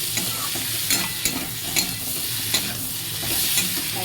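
Pointed gourd, potato and shrimp curry sizzles steadily in a pan while being stirred, with a scraping spatula stroke about every half second over the continuous frying hiss.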